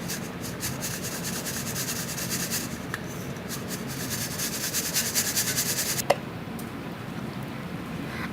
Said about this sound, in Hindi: इसको मैंने छलनी में डाला है। अब हम इसको छान लेंगे।